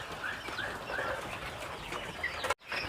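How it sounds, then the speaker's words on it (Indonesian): Male and female quails give a series of short, chirping calls up close, repeating at a quick, uneven rhythm, followed by an abrupt brief silence. "Ini puyuh jantan nih, dan ini puyuh"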